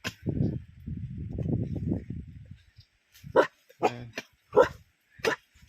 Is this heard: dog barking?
yes